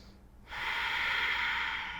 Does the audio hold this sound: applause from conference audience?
no